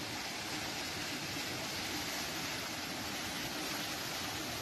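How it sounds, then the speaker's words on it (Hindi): Water pouring down at Jonha Falls near Ranchi, Jharkhand, a dense, even rush of falling water filling the scene, steady and unbroken with no voices. "पानी पूरा गिरने से कितना अच्छा लगेगा ना"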